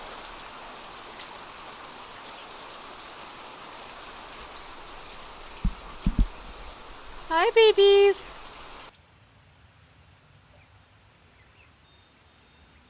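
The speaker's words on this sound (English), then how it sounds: "our ducks got to experience their first rain, and of course we sprung leaks to catch the drips" Steady rain falls and patters on a backyard baby duck enclosure with a leaking awning, a soft continuous hiss that runs for most of the clip, broken by a few sharp knocks and a brief greeting spoken before it cuts to near silence.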